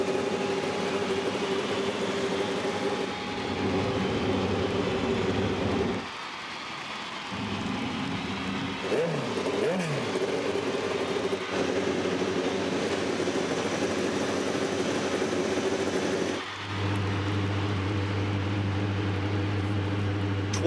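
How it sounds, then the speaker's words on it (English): IndyCar race car engines start and idle at the Chicagoland oval in 2008, a dense continuous rumble of many cars that holds steady for the whole stretch with no talk over it. "start your engines."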